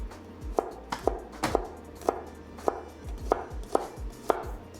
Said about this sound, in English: Then cut it to thin slices.